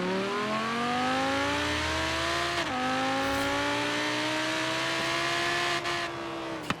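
A 2016 Audi R8 V10 Plus in Forza Horizon 3, its V10 engine howling at high revs with a steady climbing pitch, a quick shift partway through, loud and continuous with no voices.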